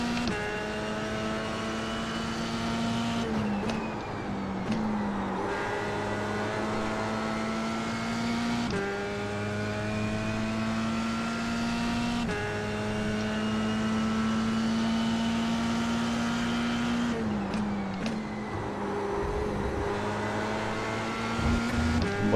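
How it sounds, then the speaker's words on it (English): An F3 race car in the iRacing sim at Watkins Glen drones steadily, its engine pitch rising through the gears with brief dips at several shifts, a continuous fairly loud muted tone with no talk. "Sounds like a race car, you know?"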